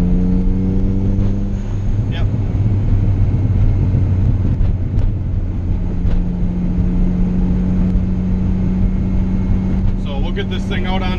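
A turbocharged Honda Integra GSR engine accelerates on a street, its steady close droning rumble holding throughout beneath a voice talking.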